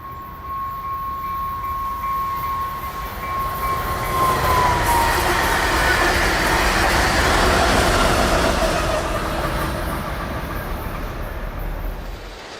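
A Northstar commuter train runs through downtown Elk River past a feed and seed store in an old grain elevator, its steady rumbling roll swelling louder mid-pass with a brief high wheel squeal early on.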